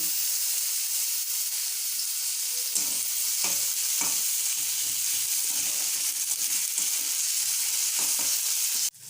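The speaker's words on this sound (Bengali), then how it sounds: "কাঁচা লঙ্কা টমেটো সব একসাথে ভেজে নেব আর একটু তেল" Green chillies and tomatoes fry together in oil in a pan, a continuous hissing sizzle with intermittent clicks and stirring scrapes, close and steady.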